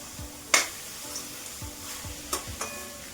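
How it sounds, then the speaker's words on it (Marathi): Grated carrot halwa with cardamom powder being sautéed in a pan, a gentle sizzle under a few distinct scraping stirs of a spoon against metal, close up and without talk. "अजून फक्त आपल्याला 3 ते 4 मिनिट परतून घ्यायचं आहे."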